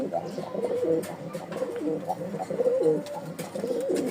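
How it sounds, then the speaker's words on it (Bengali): A pigeon of a flying breed coos repeatedly in its cage just after being released into it, close and fairly loud, with its rolling calls continuing steadily throughout. "এই দেখেন ওর খাঁচায় ছাড়ার সাথে সাথে মার্শাল্লাহ ডাক শুরু করে দিয়েছে"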